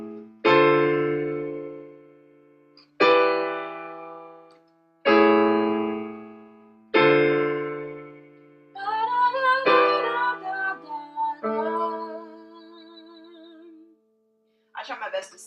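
Piano intro: chords strike four times in a steady pattern, then a busier melodic run follows with wavering sustained notes, ending in a brief burst.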